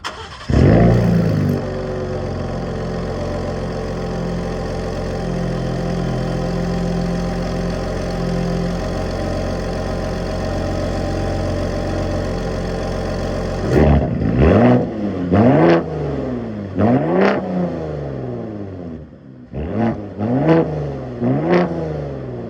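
A 2021 Ford Raptor with its exhaust baffles open idles with a deep, steady rumble, then is revved repeatedly in sharp, loud blips that rise and fall, heard close by.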